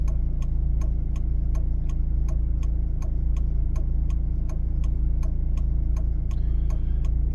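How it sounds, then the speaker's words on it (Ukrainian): A steady ticking, like a timer, sounds inside a car during a driving exam in Kryvyi Rih, with regular clicks over a constant low engine hum and no talking. "Добре, що є у нас таймер"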